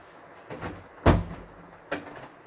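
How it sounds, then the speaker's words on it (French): An indoor door swings shut with a loud thump, with a softer handle click before it and a second lighter knock after; rain falls outside during a stable lesson. "Je vais fermer la porte."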